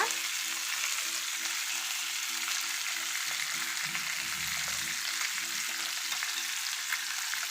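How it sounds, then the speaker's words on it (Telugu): Fish fries in oil in a large pan, giving a steady, even sizzle and hiss throughout. Faint stirring and bubbling sit underneath at moderate volume. "మనం కొంచెం కొంచెం ఆయిల్ వేసుకుంటూ ఫ్రై చేసేసుకోవాలి"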